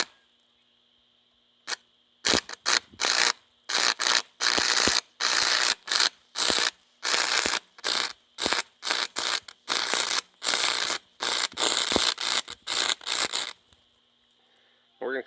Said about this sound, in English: going to weld this thing in position